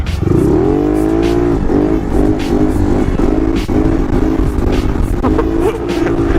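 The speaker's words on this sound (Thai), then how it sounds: "ยกล้อชิวๆทุกคนไป" A motorcycle ridden in a wheelie along a quiet rural road between fields, its engine loud and close, revving hard in repeated rising and falling surges.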